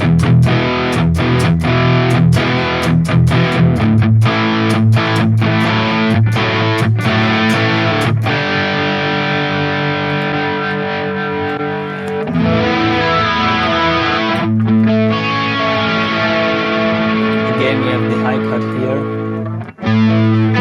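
A crunchy distorted electric guitar played through the Mark IV amp model on a Sonicake Matribox 2 Pro plays loud chugging chords and sustained notes, a steady dense tone with brief muted stops.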